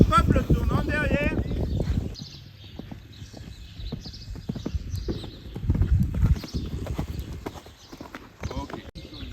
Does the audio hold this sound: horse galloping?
yes